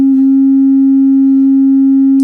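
A scaled test tone plays through a 6th-order bandpass subwoofer as one steady, loud, unbroken hum that holds level for the whole stretch, with no voices over it.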